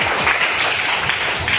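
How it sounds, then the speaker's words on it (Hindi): Children in a school classroom clap together in a short, loud, steady burst of close applause. "तालियां बजा दो।"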